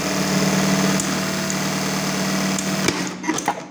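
An industrial sewing machine runs continuously while stitching a zigzag seam, a steady close mechanical hum and rattle that falters and breaks into a few clicks near the end.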